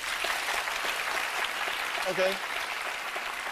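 Studio audience at a talk show breaks into clapping, a moderate, scattered patter of applause heard under a man's brief spoken remark.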